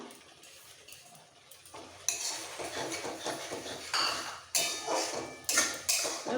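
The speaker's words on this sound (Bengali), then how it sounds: "একটু মিক্স করে নাড়াচাড়া করে দিয়ে দেবো" Chana dal with coconut stirred in a pan, a spoon scraping and clinking against the metal in bursts that grow louder and busier partway through, with no talk.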